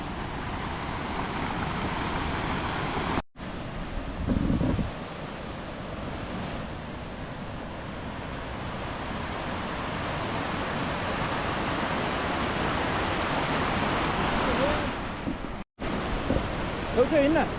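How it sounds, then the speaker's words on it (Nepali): The Langtang river in Nepal flows with a constant loud roar of rushing water, close by and wind-buffeted, with a couple of brief cuts and faint voices underneath. "लाङटाङ खोला"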